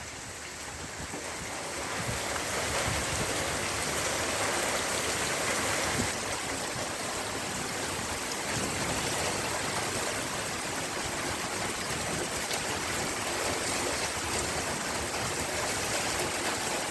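Steady rain pours onto a flat rooftop in Dhaka where water has pooled, a dense, continuous hiss and patter close by that swells slightly after the first couple of seconds and holds evenly throughout.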